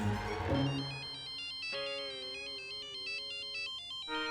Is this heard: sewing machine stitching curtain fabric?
no